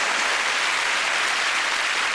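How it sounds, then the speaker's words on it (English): A short burst of studio audience applause on a comedy quiz panel show, dense and steady clapping heard alone throughout. "And this round of applause."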